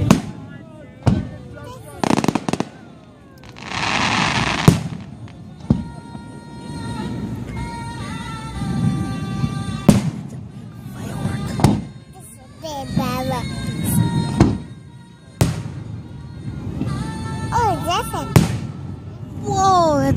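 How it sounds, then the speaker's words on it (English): Fourth of July fireworks burst repeatedly, sharp bangs and crackling pops scattered throughout, with whistling rockets and people talking and exclaiming in between. "It's a big firework."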